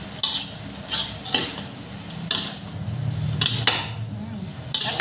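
Rice vermicelli for bihun goreng is stirred and fried in a pan, with a sequence of distinct scraping strokes rising above a continuous low sizzle, close and moderately loud.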